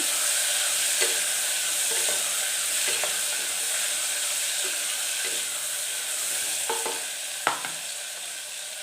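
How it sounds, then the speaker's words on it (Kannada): Two medium chopped onions fry in a pan with a continuous, even sizzle, broken by periodic light scrapes and taps of a stirring spoon, including one sharper clack near the end. "ಮೀಡಿಯಮ್ ಸೈಜ್ 2 ಆನಿಯನ್ನನ್ನು ಹಾಕ್ಕೊಳ್ತಾ ಇದ್ದೀನಿ. ಅದನ್ನು ನೀಟಾಗಿ ಫ್ರೈ ಮಾಡ್ಕೊಳ್ಳಿ."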